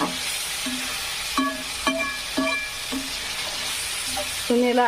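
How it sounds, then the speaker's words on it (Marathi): Chopped onions sizzle and fry in a pan for egg bhurji, a steady frying hiss with intermittent stirring clinks and scrapes, no talk over it. "कांदा फ्राय झाल्यानंतरच सर्व टाकून घ्यायचं आहे यामध्ये"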